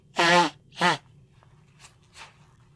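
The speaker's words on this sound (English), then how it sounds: "Also darn gonna sneeze." A person sneezes twice in quick succession, close and fairly loud, followed by a couple of fainter breathy snorts against a quiet, faintly humming background.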